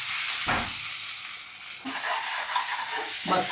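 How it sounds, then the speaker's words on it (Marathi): Chopped onion and green chillies with cumin sautéing in a pan, giving a continuous close sizzle and hiss broken by a few spatula scrapes, with no talk. "परतून घेऊया म्हणजे शिजवून घेऊया हो"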